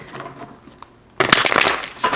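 A deck of tarot cards is shuffled by hand: a soft rustle gives way to a louder burst of riffling, slapping card noise near the microphone.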